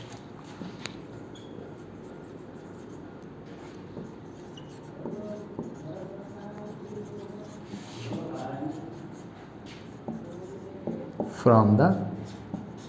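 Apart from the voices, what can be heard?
writing on a board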